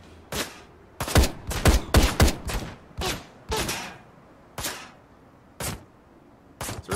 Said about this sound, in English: This rifle's so much better.